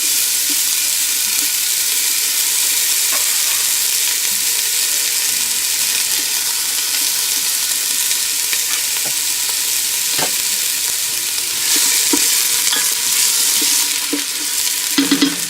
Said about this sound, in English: You're going to saute those onions until they're very caramelized.